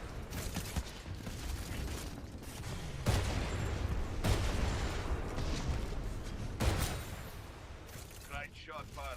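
In a Titanfall game, the player's gun fires in rough bursts, with several sharp, louder shots standing out among chattering gunfire and mechanical clanks, while someone talks over much of it.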